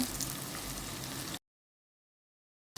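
Ginger, garlic, dried chillies and curry leaves fry in hot oil, giving a dense, steady hiss and crackle that stops abruptly after a moment and leaves silence.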